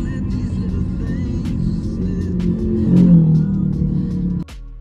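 A Grab car travels on the road to the airport with a steady low engine and road rumble inside the cabin, swelling slightly midway before dropping off near the end.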